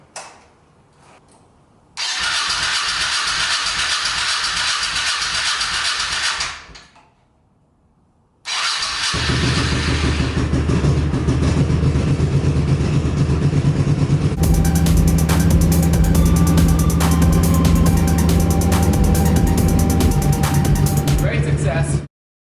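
A Honda Shadow motorcycle cranks on the starter after winter storage, stops, cranks again and then catches, settling into a loud, close, steady idle that runs to the end.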